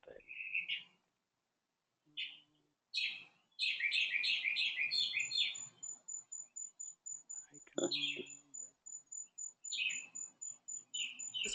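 Birds chirping near a back porch: bursts of bright, rapid tweets and trilled calls, fairly close, repeating in short clusters with pauses between, plus one faint low thump.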